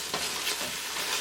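Fish biryani masala with mellowed tomatoes being stirred in a hot pan, a soft sizzle with scraping strokes of the spoon, close and continuous.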